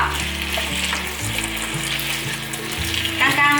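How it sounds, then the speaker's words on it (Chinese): Snow peas and lotus root stir-fried in a pan over medium heat, a steady sizzle with scraping and tossing strokes from the spatula, louder clatter near the end. "现在开中火，快速的翻炒。"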